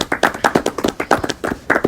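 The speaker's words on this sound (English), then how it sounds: "Everybody, put your mics down and give a round of applause for Jonathan." Podcast hosts clap together near the microphones, a fairly loud string of quick, slightly uneven hand claps with no talking.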